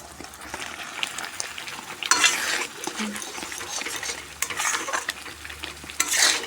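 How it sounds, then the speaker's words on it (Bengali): A chicken curry stirred continuously in a pan, spoon scraping and clattering over a steady sizzle, with a few louder scrapes standing out; no one speaks. "নাড়াচাড়া না করলে নিচে লেগে যেতে পারে, তাই কন্টিনিউ নাড়াচাড়া করতে হবে"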